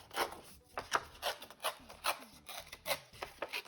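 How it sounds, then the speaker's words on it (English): Close, rhythmic scratchy tearing of a piece of orange material by hand, a series of short rasping rips repeating roughly every half second with no talking. "I'm gonna take this orange and I'm gonna tear it towards me"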